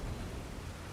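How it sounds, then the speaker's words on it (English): Steady rain hisses in a broad wash with a low thunder rumble underneath, as weather in the video game Elden Ring, continuous and even throughout. "And it's raining."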